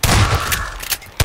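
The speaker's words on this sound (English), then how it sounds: "Oh, you throw grenades, too." Grenade explosions in Garry's Mod: loud, close booms and blasts crowd a brief moment, with a heavy low rumble and sharp bursts at the start and again at the end.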